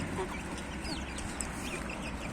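Faint clucking from a few chickens over a continuous background hum, with occasional higher chirps and no voices.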